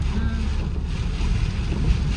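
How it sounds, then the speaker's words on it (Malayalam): Strong wind gusting through heavy rain at the Vagamon hill station in Kerala, a steady close buffeting roar that rumbles on the microphone throughout, with no talk. "കാണാൻ വയ്യോ ഭയങ്കര കാറ്റ് കേട്ടാ"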